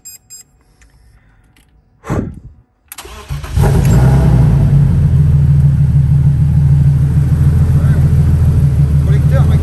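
A car engine cranks briefly, catches, and settles into a loud, steady rumble that holds to the end, close to the microphone.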